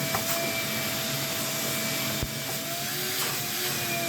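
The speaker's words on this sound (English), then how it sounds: "So we're going to vacuum this bad boy out." A vacuum cleaner cleans out an old, dusty shop shelf that once held a bird nest, producing a steady, loud whooshing drone throughout with one brief knock partway through.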